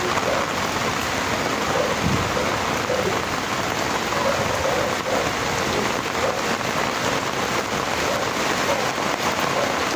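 Heavy rain pours steadily throughout, a dense continuous hiss, with low rumbles of thunder rolling underneath, during rising floodwater in a subdivision.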